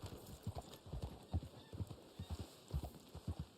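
Horse hooves clip-clop in Red Dead Online, a steady trotting rhythm of soft paired thuds close by, repeating evenly with no talk over it.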